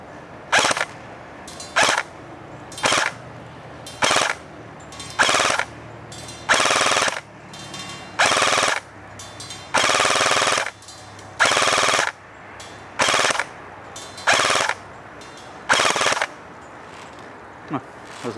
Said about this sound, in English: So we're just going to go ahead and shoot some volleys of fire at it and see what we can land.